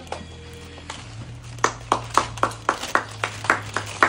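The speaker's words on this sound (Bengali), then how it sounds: "সবাই জোরে হাত তালি ওর জন্য" Scattered claps ring out for a child winning three prizes of noodles, cake and chanachur at a home prize game, a sparse, uneven handful of sharp slaps rather than full applause, over a low steady hum.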